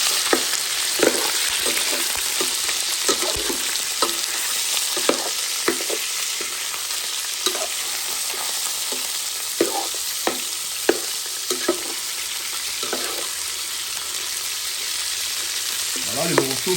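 Chunks of fresh meat for a roast fry in a hot pan, a constant loud sizzling hiss close up, broken by scattered clicks and scraping taps of stirring.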